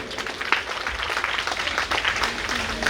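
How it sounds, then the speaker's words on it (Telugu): An audience at a Christmas celebration breaks into applause, a dense patter of many hands clapping steadily at moderate distance for a few seconds. "చప్పట్లతో అందరము కలిసి కరతాళ ధ్వనులతో వారిని ప్రత్యేకంగా ఆహ్వానించుకుందాం"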